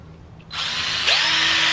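An Earthquake XT polisher/sander from Harbor Freight switches on after a brief pause and runs with a close, loud, steady high whir that climbs slightly in pitch.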